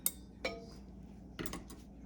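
A metal fork clinks lightly against a dish several times, with quiet, close, sharp ticks and short pauses between them.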